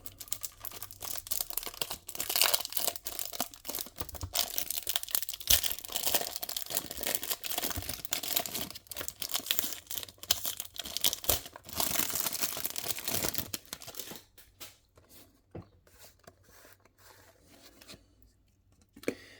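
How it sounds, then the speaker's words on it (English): Plastic wrapping is peeled and crinkled off a diecast model car, a dense, close run of rustling and crackling for about fourteen seconds that then thins into sparse, quieter handling sounds. "I'm going to remove the plastic"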